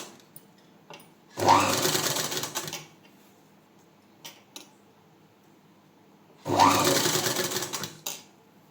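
Sewing machine with a normal presser foot stitching thread piping, running in two loud bursts of about a second and a half each, separated by quieter pauses with faint handling clicks.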